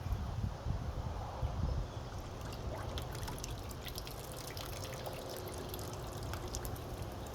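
Water pumped into a sluice box while gold prospecting, a steady low rushing and trickling flow with scattered drips, louder at the start and then holding even and moderate throughout.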